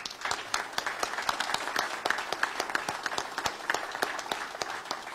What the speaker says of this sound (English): She needs a round of applause.